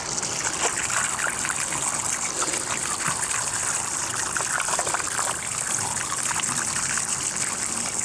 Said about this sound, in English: Now we're going to add distilled water.